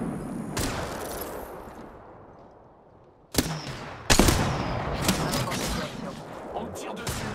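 Video game gunfire in Apex Legends, where sustained bursts of automatic weapon fire break out suddenly after a quieter stretch and continue loudly, with a voice speaking French over the shooting.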